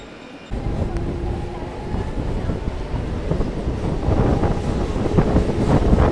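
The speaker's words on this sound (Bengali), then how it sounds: "আমার ট্রেন ছেড়ে বেরিয়ে যাচ্ছে রঘুনাথবাড়ি রেলওয়ে স্টেশন থেকে" Local train on the Kolkata–Digha run pulling out of Raghunathbari railway station after a one-minute halt, a steady low rumble that grows louder and denser over several seconds, with wind buffeting the microphone.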